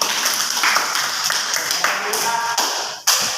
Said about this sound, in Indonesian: Iya, tepuk tangan untuk Aura